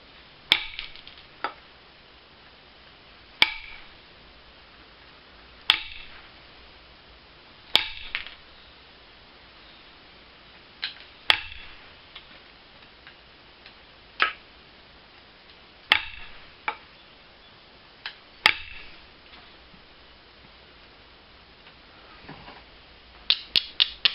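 Flint knapping with a hard hammer tool, sharp isolated clacks of stone on stone repeating every few seconds at an irregular pace, close and distinct against a quiet background, ending in a quick cluster of strikes.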